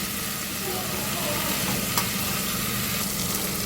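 Ingredients sauté in a pan for a sprouted green gram and chickpea dish, giving a steady, even sizzle and frying hiss that runs unbroken, with a faint click near the middle.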